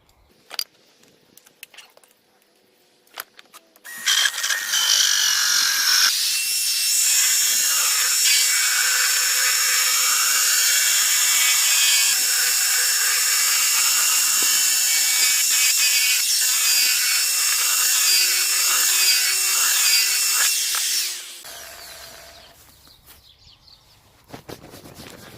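A power drill bores holes through a plastic tub to fit feeder pipes for a DIY chicken feeder. It runs as one loud, steady whine for about seventeen seconds, with quiet handling noises before and after and no talking.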